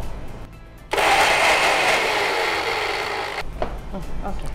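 Mixer grinder blending onion chutney, whirring loudly from about one second for roughly two and a half seconds, with speech and kitchen clatter before and after the grinding.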